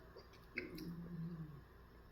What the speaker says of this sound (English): That was my stomach.